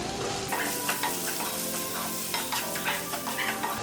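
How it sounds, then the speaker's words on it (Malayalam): Prawns sauté in a hot pan with salt and turmeric, giving a steady close sizzle and frying hiss broken by scraping stirs, with no talk. "നല്ലതുപോലെ വഴറ്റണം."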